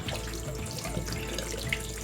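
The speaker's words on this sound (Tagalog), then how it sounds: "hugasan ko muna po itong chicken. Hugasan ko muna po natin. Hugasan po natin ng mabuti." Raw chicken being washed in a kitchen sink for sinigang, with tap water running steadily and splashing close by, unbroken and without talk.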